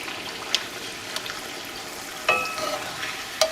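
A tortilla quesadilla fries in oil in a hot pan, a soft continuous sizzle broken by a few sharp crackles and pops, close and fairly quiet with no talking.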